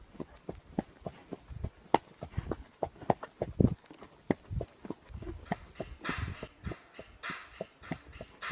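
Horse hooves clip-clop in a steady walking rhythm, a dozen or more distinct, fairly faint hoof strikes on hard ground, with a little background rustle later on.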